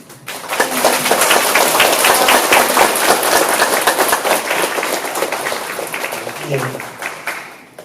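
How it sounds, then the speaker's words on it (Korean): Loud, sustained applause from an audience at a church lecture fills most of the stretch, dense clapping that swells quickly and slowly tapers off near the end. "다시 한번 박수 부탁드리겠습니다"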